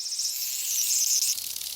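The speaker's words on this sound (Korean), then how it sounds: "안 그래도 더운 여름날 시끄럽게 싸지르는 매미 한 마리가 유유히 비행을 떠납니다." A loud, steady high-pitched insect drone, close and continuous, that cuts out near the end leaving faint background noise.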